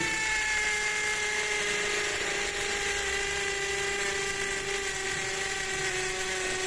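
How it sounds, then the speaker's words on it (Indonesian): A high-pitched brushless cordless drill whines steadily and loudly, grinding continuously into concrete with a 10 mm bit without pause. "Next kita buat ngebor beton nih, berbeton 10 mili."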